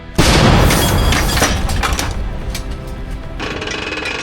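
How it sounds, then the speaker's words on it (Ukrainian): A single loud, close blast of a captured Nona self-propelled artillery gun firing hits suddenly, followed by a long rumbling, crackling decay that fades slowly. "Увага! Постріл!"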